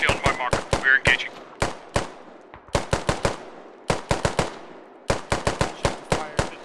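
Machine gun fire in the video game Squad, delivered as rapid bursts of sharp, loud shots in quick clusters with short pauses between them, alone with no talk.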